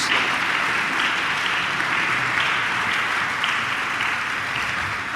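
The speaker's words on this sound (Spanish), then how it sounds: "dele ese aplauso al Señor" Dense, steady applause from a church congregation fills the space at full volume for several seconds, a continuous wash of many hands clapping with no pauses.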